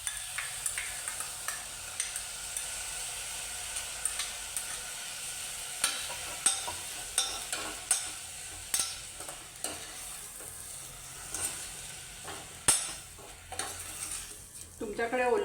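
Freshly ground coconut paste is stirred into a hot pan of rassa bhaji curry, with a steady sizzle and repeated scraping strokes of the spoon. The sound is close and continuous, with no talking.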